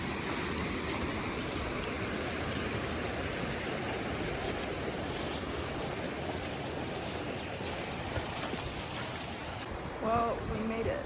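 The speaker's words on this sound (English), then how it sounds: "We got a creek crossing." Creek water rushes steadily at a backcountry creek crossing in Grand Teton country, a continuous broadband wash of flow that stays even throughout, with a brief faint voice-like sound near the end.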